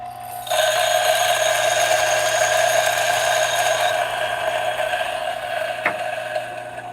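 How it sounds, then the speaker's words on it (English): A Niche coffee grinder grinds coffee beans, a steady high-pitched motor whine with gritty crunching that starts abruptly and holds for several seconds, close and fairly loud, with a brief knock near the end. "I'm gonna start grinding some coffee beans here."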